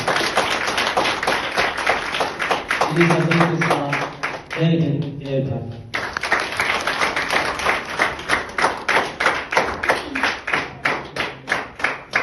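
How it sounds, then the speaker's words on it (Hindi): Loud applause from a school gathering in India, with repeated claps running throughout and a brief pause midway while a voice speaks over it. "आपके लिए जोरदार तालियां"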